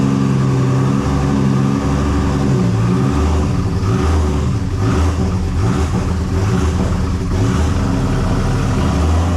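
A Toyota 2JZ engine cranks over for its first start, the starter churning with a loud, continuous, rhythmic mechanical drone that pulses unevenly throughout.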